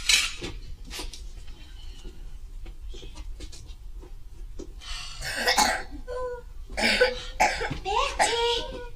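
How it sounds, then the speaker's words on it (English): Several rough coughs and throat-clearing sounds, close and loud, breaking out in bursts toward the end after quieter scattered clatter. "I'm coming then with something nice to stop your nasty cough"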